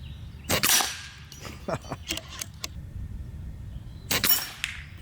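Sharp broadband cracks from a JTS Brawn bullpup PCP air rifle, one near the start and another around four seconds, with faint clicks and handling noise between, fired outdoors.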